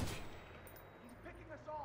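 Faint gunfire pops in a Watch Dogs street fight, a few quick distant shots in a short burst beneath quiet game ambience.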